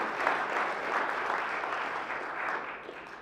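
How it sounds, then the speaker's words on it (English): A sustained wash of audience applause honoring Mike Wooten, the Highway Commission representative, steady and dense throughout with no voices on top. "let's have a round of applause for Mike"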